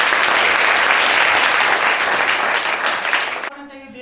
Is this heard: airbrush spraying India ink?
no